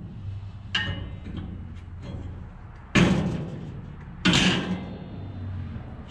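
Two loud metallic slams of a steel Agri-Fab dump trailer bed closing land a second or so apart, each a sharp heavy bang with a brief rattle, over a low background hum.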